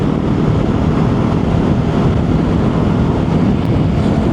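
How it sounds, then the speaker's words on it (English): Benelli TRK 702 motorcycle cruising at about 70 mph, heard as a loud, unbroken roar of wind buffeting with a steady engine drone buried beneath it, no voices. "So riding along at 70, bike's fine"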